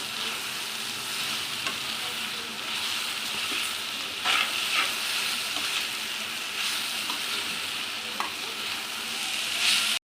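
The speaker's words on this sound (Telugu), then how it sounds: "అల్లం వెల్లుల్లి పేస్ట్ వేసాక బాగా ఫ్రై చేసుకోవాలండి" Cabbage curry frying with ginger garlic paste in a pan, a steady loud sizzle with repeated scraping stirs and spatula knocks throughout.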